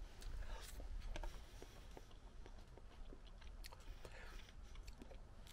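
Chewing of crispy chicken meat during a meal in Athens, a soft, irregular crunching and biting close to the microphone over a low, steady background murmur.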